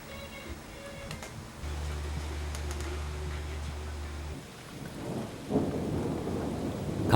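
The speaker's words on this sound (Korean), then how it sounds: "갑자기 비가 내리기 시작했다." Rain begins to fall outside a home, with a low, sustained rumble of thunder lasting a few seconds. Steady rainfall hiss follows and builds toward the end, with no voices.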